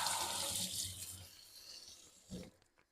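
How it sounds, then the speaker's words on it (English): Hands are rinsed in dishwater at a kitchen sink: a soft, faint swish and splash of water that fades out near the end. "Rinse my hands in the dishwater."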